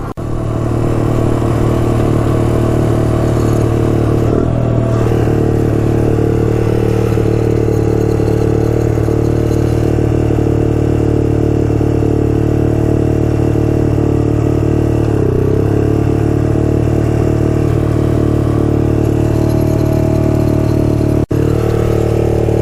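A Honda ATC 200x three-wheeler runs with a slipping clutch: a loud, steady, close engine drone with throttle swells and dips, continuous throughout and unbroken by talk.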